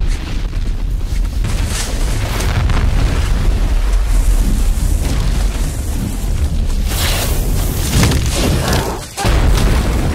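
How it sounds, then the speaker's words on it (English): Fireballs shot in The Hunger Games (2012) film: a continuous, loud roaring rush of fiery whooshes and rumbling booms that fills the whole stretch, with a brief dip near the end and no talking. "They're shooting fireballs at her"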